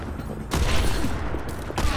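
Rapid bursts of video game gunfire crackle in quick succession, loud and close, a dense fusillade with a sharp volley starting about halfway through.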